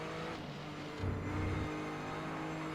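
Continuous engine drone with a slight rise in low rumble in the middle, GT racing cars in a video game running close together at steady speed.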